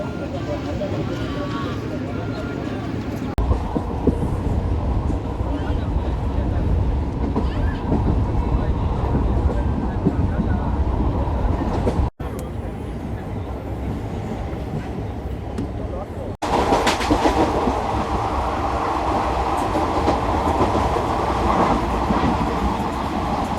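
Pinakini Superfast Express running along the line, a continuous close rumble and clatter of wheels and carriages with talk over it, cut by two brief breaks and rising in brightness near the end.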